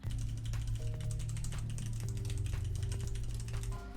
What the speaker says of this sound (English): Have you ever heard JPC abusing his keyboard?